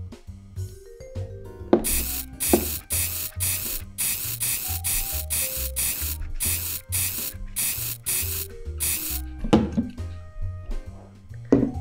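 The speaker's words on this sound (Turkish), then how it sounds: "biz yine de şuralara böcek spreyi sıkalım." Repeated short hissing bursts of an aerosol spray, about a dozen quick sprays in a steady rhythm, close by, over a low musical background.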